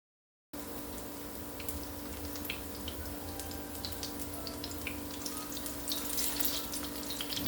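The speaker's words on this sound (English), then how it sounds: "In the hot oil, quickly sear both sides of the burgers." Plant-based burgers sear in 5 tablespoons of hot olive oil in a pan, a steady crackling sizzle that starts suddenly and grows slightly louder and busier toward the end.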